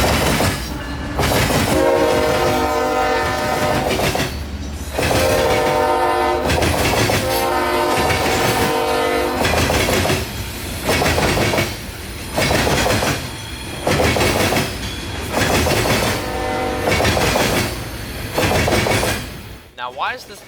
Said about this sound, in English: an as-needed train of loaded coal